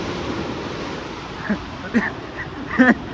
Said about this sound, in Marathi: हा बघू शकता लाटा बिटा किती मारतात बघा लाटा बघा